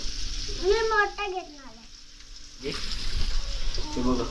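Fish sizzles in a frying pan under a voice speaking over the top, with a soft steady hiss and bubbling that carries on after the talk stops.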